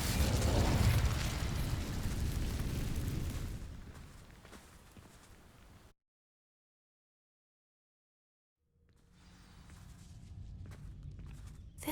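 Incendio fire spell setting dry vines alight in Hogwarts Legacy: a loud, roaring burst of flame and crackle that fades out into silence, then low ambient rumble and faint clicks return.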